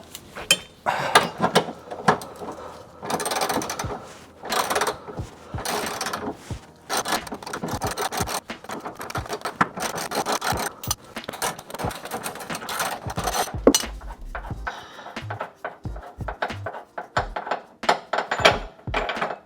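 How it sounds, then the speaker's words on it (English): A ratchet and socket back out a rear subframe bolt on a WRX STI, a close run of rapid clicking strokes in repeated bursts with short gaps, without speech. "just got to take the socket, the ratchet, and just finish it off"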